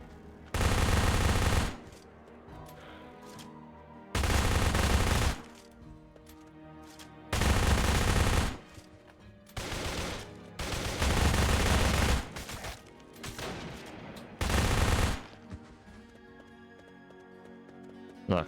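Automatic gunfire in a video game, several long bursts of rapid shots separated by pauses, loud and harsh against quieter background sound.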